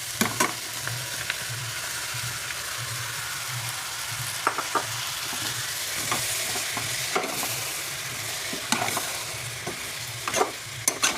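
Mixie-crushed tomatoes frying in a pan for a prawn biryani give a steady close sizzle. Scrapes and taps from stirring recur throughout, with no talking.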